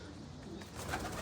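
Pigeons coo faintly beneath a broad, noisy outdoor hiss in one brief, low-level moment.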